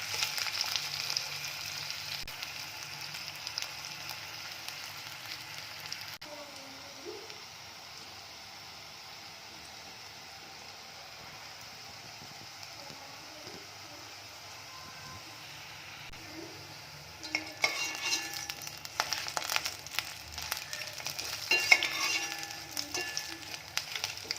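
Raw banana slices fry in oil with a soft, steady hiss, dropping quieter through the middle stretch before a louder, crackling sizzle returns near the end, with no one speaking.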